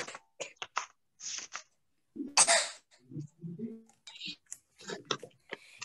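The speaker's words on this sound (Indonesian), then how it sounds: "Siapa yang batuk-batuk?" A child coughs in short, harsh bursts during an online Zoom class for fifth graders, with one loud burst in the middle among softer clicks and faint murmured voices.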